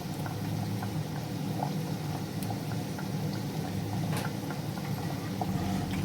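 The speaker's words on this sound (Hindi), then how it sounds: "हल्की आंच पे इनको फ्राई करना है।" Chicken nuggets fry gently in oil over low heat, giving a soft, even bubbling hiss that holds steady throughout with a few faint pops on top.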